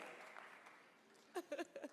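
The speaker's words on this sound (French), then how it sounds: "Est-ce qu'on peut applaudir?" A studio audience at a singing competition claps softly, the faint applause tapering off before a voice begins speaking.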